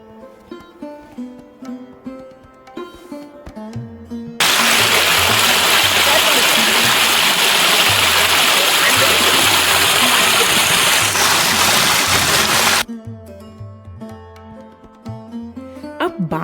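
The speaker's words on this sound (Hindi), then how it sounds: "ये वो नेचुरल स्ट्रीम है जो बाणगंगा को 365 दिन हर सेकंड पानी देती है।" A natural stream pours into the Banganga tank at Walkeshwar, Mumbai, a loud, continuous rushing gush that starts abruptly, runs for about eight seconds, then cuts off. A person talks before and after it.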